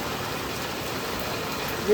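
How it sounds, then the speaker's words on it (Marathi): Heavy monsoon rain pours down in a steady, dense, continuous hiss of water falling outdoors, loud and unbroken. "आणि अशा पद्धतीने खूप जोरदार पाऊस चालू आहे."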